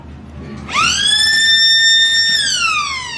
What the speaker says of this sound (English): we're about to blow the siren here at Jerry